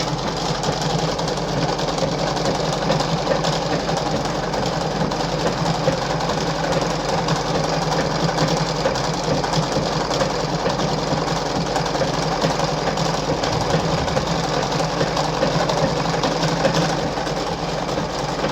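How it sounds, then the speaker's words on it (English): A Singer 5107 domestic sewing machine stitching a blind hem on fabric, loud and close, with an even motor drone and fast rhythmic needle knocking that runs without pause throughout. "So I'm sewing this blind hem stitch, so it goes this way."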